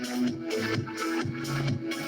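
A kick drum driving the drop of an electronic track lands in a steady half-second pulse, buried under dense sustained synths and pads at moderate loudness.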